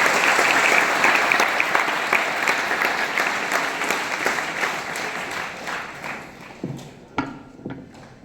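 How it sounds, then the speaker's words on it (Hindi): An audience at a school Guru Purnima event gives loud, dense applause that gradually thins and fades, ending in a few scattered claps and light knocks. "बड़े सम्मान से जोरदार तालियों से"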